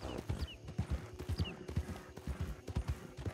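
A horse's hooves clip-clop in Red Dead Redemption 2, a steady close rhythm of hoofbeats that runs the whole time, with faint calls in the background.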